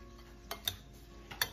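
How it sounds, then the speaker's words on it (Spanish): A spoon stirs a fish taco salad mixture in a bowl, giving a few soft clinks and scrapes, quiet and close, with no talking. "Vamos a revolver todo"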